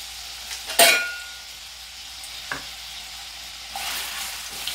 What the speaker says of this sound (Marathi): तेल गरम झालेलं आहे, गॅसची आज मंद करायची आहे आणि हा बटाटा घालून घ्यायचा।